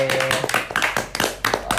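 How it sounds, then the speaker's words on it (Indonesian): A student audience at an orientation event gives a short burst of clapping, close and uneven with distinct hand claps standing out, and some voices mixed in under it. "boleh tepuk tangan teman-teman"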